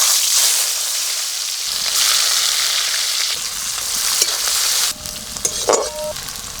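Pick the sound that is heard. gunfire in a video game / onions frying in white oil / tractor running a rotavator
onions frying in white oil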